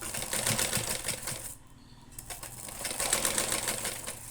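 A sewing machine stitches through folded cloth at close range, a rapid rhythmic clatter that pauses briefly midway and then resumes at a steady pace.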